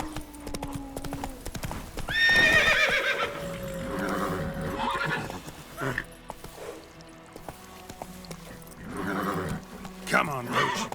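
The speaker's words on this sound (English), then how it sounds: "Run, Roach" Roach the horse in The Witcher 3 gallops with rapid clip-clop hoofbeats and lets out loud neighs and whinnies, while a voice calls out over the game sounds.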